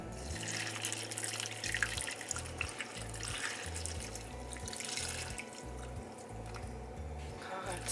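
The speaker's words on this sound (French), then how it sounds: "Et là, on va ajouter de l'eau." Tap water runs steadily and fairly loudly into a cooking pot for a stovetop Christmas scent simmer, with a faint low rhythmic sound underneath and no talking.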